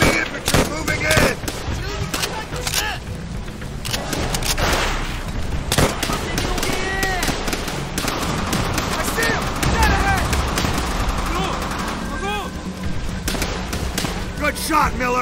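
Chaotic Call of Duty: World at War battle with repeated rifle shots and explosions, dense and loud throughout, while soldiers shout over the gunfire.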